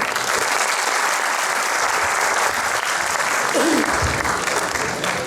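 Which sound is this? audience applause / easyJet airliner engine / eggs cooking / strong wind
audience applause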